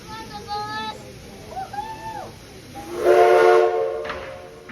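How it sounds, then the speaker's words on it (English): A big train engine comes past, its whistle sounding in a few tonal blasts before a louder sustained horn swells near the end, with people talking and chatting around it. "Hello, choo-choo train."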